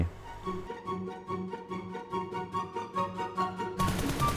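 Automatic gunfire in PUBG Mobile, a rapid, evenly spaced burst of shots fired close and loud, ending in a harsher noisy clatter.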